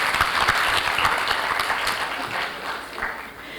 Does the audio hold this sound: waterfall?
no